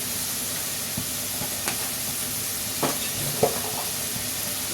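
Coriander powder, cumin powder and a little salt stir-fried in a pan for an egg, eggplant and tomato dish, giving a steady close hiss broken by a few sharp spatula scrapes and taps.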